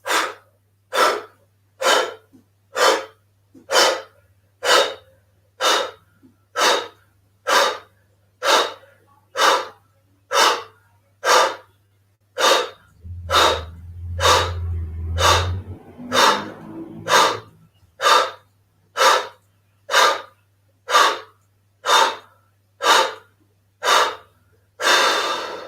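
Kapalabhati yoga breathing: a steady train of forceful, evenly spaced pumping exhalations, close and loud, about one per second, with a brief pause and a louder inhale-like rush midway before the pumping resumes.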